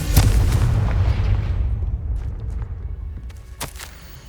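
Confringo blasting spell in the Hogwarts Legacy video game: one loud, close explosion bursts at the start and rolls into a long fading rumble, with a few faint crackles later.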